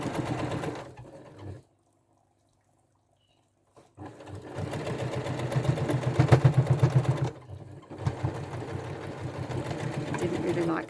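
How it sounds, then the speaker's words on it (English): A sewing machine stitches a fabric seam in two steady runs of rapid mechanical whirring, close and clear, with a silent pause between the runs. "so let's sew this length together"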